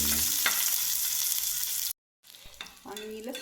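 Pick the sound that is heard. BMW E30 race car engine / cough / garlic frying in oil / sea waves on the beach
garlic frying in oil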